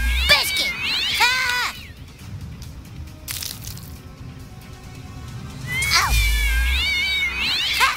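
Cartoon cats meow and yowl in the South Park video game, with loud, wavering cries at the start and again near the end and a rumbling, noisy game soundscape between them.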